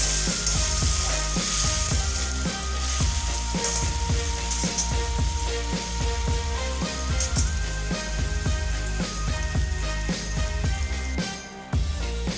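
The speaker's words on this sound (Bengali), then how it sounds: "এবারে এর মধ্যে আমি অল্প করে জল দিয়ে দিচ্ছি।" Water poured into hot gravy in a pan for a Bengali chilly egg dish, a steady, loud hiss and sizzle with light clinks of utensils against the pan.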